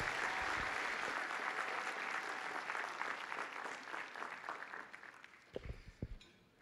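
A big round of applause fills the hall at a JROTC national championship awards ceremony, loud at first, then thinning and tapering off into a few scattered claps and thumps.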